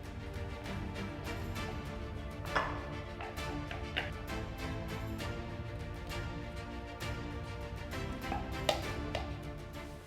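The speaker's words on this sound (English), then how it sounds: "Now we only need 10 seconds or so. You don't want to go overboard with the blitzing." A food processor blitzing cauliflower into rice-sized bits gives a dense, steady whirring and rattling for about ten seconds, with a few sharper knocks mixed in.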